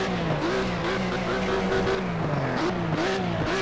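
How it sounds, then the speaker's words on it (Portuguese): A Lykan HyperSport engine revs in the racing game Project CARS. Its loud, steady engine note climbs and falls in pitch through repeated throttle blips, rising again near the end. "Deixa eu dar uma acelerada pra vocês ouvirem o som do motor."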